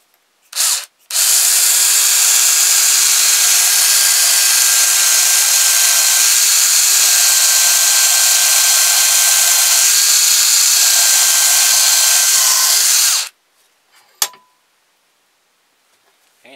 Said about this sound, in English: Then we're going to drill a hole here.